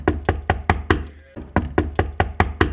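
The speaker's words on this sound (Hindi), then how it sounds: "अचानक ही कालू कौवे के घर के दरवाजे पर दस्तक होती है।" Cartoon door knocking, a series of sharp evenly spaced raps in two bursts with a short pause between, close and loud with no other sounds.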